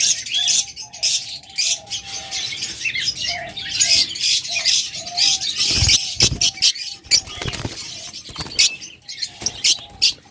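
Caged pet lovebirds, budgerigars or cockatiels of local breed chatter and chirp nonstop in dense, overlapping calls, with occasional louder squawks and soft rustling close by.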